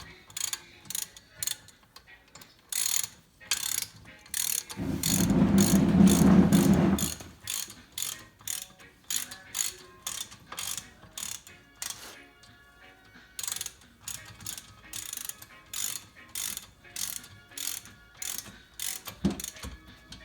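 A hand ratchet snugs bolts while Eibach coil springs go onto a Fox Body Mustang: bursts of rapid close clicking in steady strokes, broken by a brief louder mechanical rasp midway, no voices.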